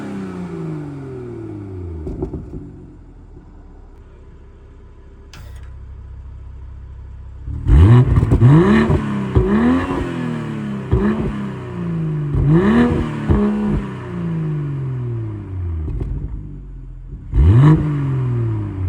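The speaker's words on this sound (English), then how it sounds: "I'll now get some revs of the car in comfort versus it in sport mode with the valve open" A 2022 BMW M240i engine idles, then is blipped repeatedly in comfort and sport modes with the exhaust valve open and closed, giving sharp, loud rising revs that fall back between each burst, recorded close up with no talking.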